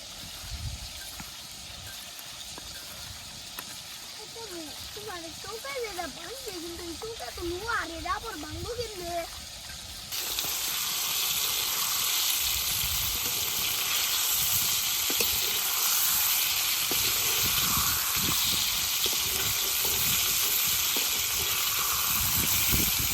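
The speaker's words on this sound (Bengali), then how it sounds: "মাংসটি ভাজা হইতে থাক" Meat sizzles and hisses steadily in hot oil in a village kitchen, softer at first with a faint voice over it, then jumping to a loud, dense crackle that runs on without a break.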